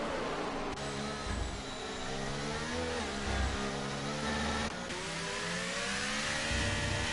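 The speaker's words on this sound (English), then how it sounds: "And back up into third goes the Ferrari." A Ferrari engine in a racing game drones steadily as it shifts up into third gear, its pitch dropping at the changes and climbing again, loud and continuous throughout.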